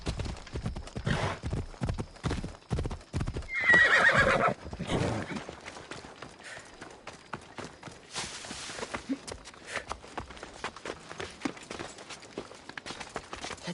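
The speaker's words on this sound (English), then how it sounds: "Looks like a sturdy horse." Spiro, a sturdy horse in Assassin's Creed Odyssey, clip-clops along at a steady walking rhythm, with one loud whinnying neigh breaking through partway and fainter hoof steps continuing afterward.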